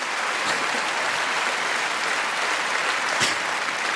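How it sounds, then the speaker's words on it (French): A theatre audience at a stand-up comedy show applauds, a dense, even wash of clapping that holds steady throughout with no voices on top. "Applaudissez le temps que je cherche."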